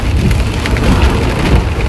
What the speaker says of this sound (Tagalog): Bakit ang lakas ng ulan dito?